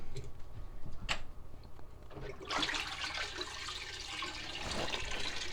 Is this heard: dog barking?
no